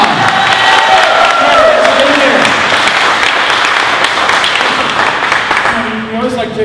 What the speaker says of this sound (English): Ted, let's give him a round of applause.